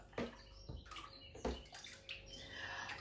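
Warm water pours and splashes into a measuring cup in a kitchen, a few uneven gushes and trickles close by with short pauses between them.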